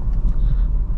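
An Audi B5 S4 Avant with a turbocharged engine, all-wheel drive and a six-speed gearbox is driving, heard as a steady, close, low engine and road rumble throughout.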